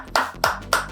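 Three sharp hand claps, close and evenly spaced about a quarter second apart, with nothing else heard between them.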